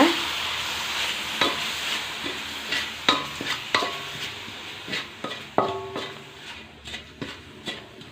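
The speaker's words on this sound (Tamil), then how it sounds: "இப்போ இதை நல்லா வறுத்து விட்டுருங்க" Ground Indian gooseberry (amla) paste is fried and stirred in a pan, with a soft steady sizzle under repeated scraping strokes of a spoon, close and moderately quiet.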